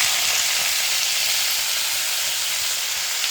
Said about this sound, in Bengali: তেলটা গরম হয়ে এসছে, এবার পালং শাকগুলো দিয়ে দিচ্ছি।